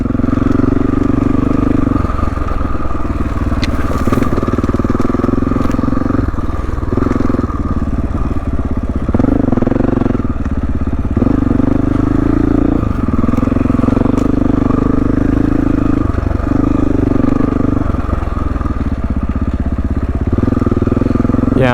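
A motorcycle engine drones continuously as the bike lugs in low gear through deep sand on Kane Creek Trail in Moab, with steady loud engine note, slight surges, and rattling clatter throughout.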